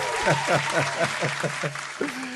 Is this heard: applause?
yes